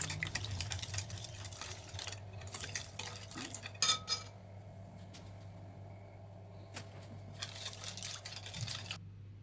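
A spoon stirring sugar, salt and vinegar together in a small bowl to dissolve them, with light rhythmic clinking and scraping close up, pausing briefly midway, no talk.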